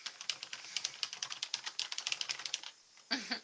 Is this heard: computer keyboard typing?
yes